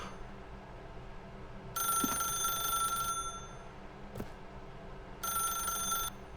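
An old-style telephone bell rings in The Stanley Parable video game, two bright trilling bursts of about a second and a half each separated by a pause, over a low quiet room hum.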